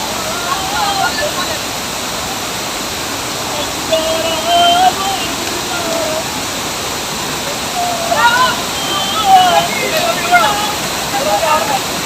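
Waterfall pouring steadily at a bathing spot, a broad unbroken rush of water that holds constant for the whole stretch, with a few brief higher splashes or voices rising faintly above the roar.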